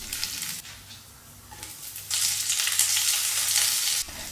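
Mustard seeds, chana dal, urad dal and split cashew nuts frying in a tablespoon of hot oil, a steady close sizzle that swells louder partway through, with no talk.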